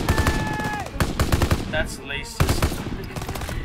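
Rapid automatic gunfire and single shots crackle through a firefight in the Call of Duty: WWII campaign, loud bursts repeating throughout with brief voices speaking over the shooting.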